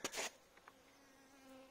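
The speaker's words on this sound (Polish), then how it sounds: "Tu już pszczoły się szykują do pełnego oblotu." Faint honeybee buzzing with a brief louder burst at the start, then a thin steady drone of bees flying near a hive.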